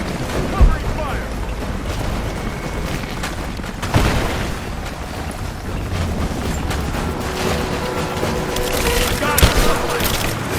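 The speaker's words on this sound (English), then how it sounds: "Covering fire!" Sustained covering gunfire in a Rise of the Tomb Raider firefight, a dense rumbling wash of shots and booms running continuously at steady loudness, with a few sharper bangs standing out and voices shouting over the battle.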